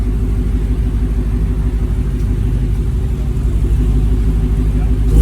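A Dodge Hellcat driven on the road gives a steady, close engine drone and rumble, slowly building in loudness, with a faint whine layered over the low cabin noise.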